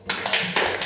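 Classroom clapping for a student, a short burst of dense applause from several people, close and steady, with no talking.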